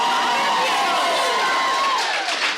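A live podcast audience cheers and whoops in a hall, a dense burst of crowd voices and shouts rising and falling, with scattered claps toward the end.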